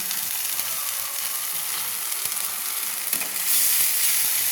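Garlic paste hits hot oil in a pan, giving a steady, loud sizzle that surges brighter near the end as it spits and crackles, with no talking.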